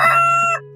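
A rooster crows once, loud and close, a sustained bright cry that stops abruptly, set in the legend of a roasted rooster rising from a banquet plate.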